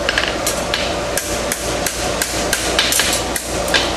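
A bar horseshoe being hammered to open it up, a fast, continuous run of close metallic hammer blows on an anvil, loud and steady without speech.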